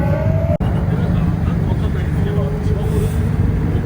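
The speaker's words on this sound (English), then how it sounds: "There's more cars coming through." Cars, including a Ferrari and an RWB car, roll past on a Sunday morning street in Japan, making a loud, steady roadside roar with engine swells and people talking underneath.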